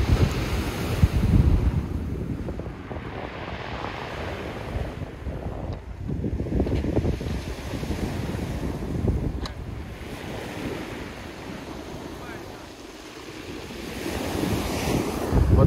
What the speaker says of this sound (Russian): слушать шум моря